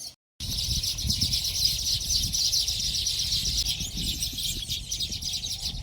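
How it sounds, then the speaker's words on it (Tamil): Weaver birds, social birds that build hanging nests, call outdoors in a steady chorus of bright, high chirps and twitters that continues throughout, with no speech. "தூக்கணாங்குருவி என்பது கலைநயமிக்க தொங்கும் கூடுகளை கற்ற சமூக பறவைங்க."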